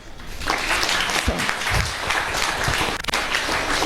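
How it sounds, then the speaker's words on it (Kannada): Audience applause at a felicitation event in Karnataka honouring Dr Sathyavathi, a steady, dense clapping crowd filling the room for several seconds without speech. "ಚಪ್ಪಾಳೆ."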